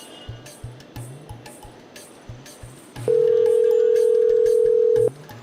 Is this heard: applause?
no